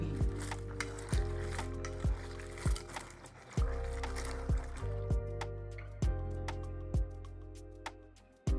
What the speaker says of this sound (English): Now I'll wash the Zobo hibiscus flowers to remove the sand